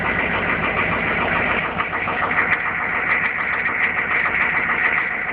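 A 1995 Chevy 2500 with a 6.5 turbo diesel idles after a cold start, a steady mid-pitched diesel clatter with a rough, knocking rhythm, close and continuous with no other sounds.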